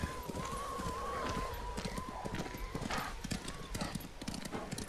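Horse hooves clip-clopping at a riding pace in the video game Ghost of Tsushima, a steady close rhythm under game music and an occasional whinny.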